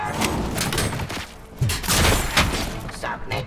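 Police gunfire rattles in Robocop: Rogue City, a loud, dense fusillade of overlapping shots and heavy thuds over several seconds, with voices mixed in.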